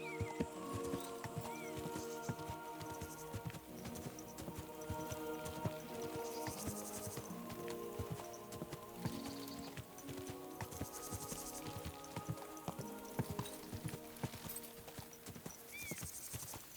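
Horse hooves clip-clop in a steady walking rhythm in the medieval game Kingdom Come: Deliverance II, set against a sustained orchestral music bed, with occasional snorts and soft ambient sounds.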